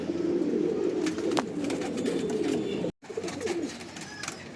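Andhra and Madras racing pigeons coo in soft, repeated throaty rolls close by, with a short gap partway through and light rustling between calls.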